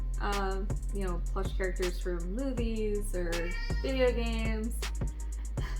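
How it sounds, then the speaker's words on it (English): A pet cat named Setzer meows several times, drawn-out rising and falling cries close to the microphone, interleaved with a person talking. "That's our cat making noise."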